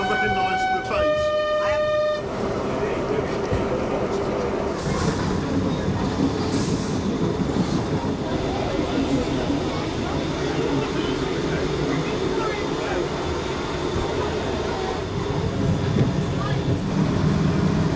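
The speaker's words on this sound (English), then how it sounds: "let's jump on board the train and we'll take you on a trip up the line" Heritage train running on the Great Central Railway near Nottingham, a steady close rumble of wheels and carriage noise throughout, with brief tonal whistle or horn notes at the start and talk over the top.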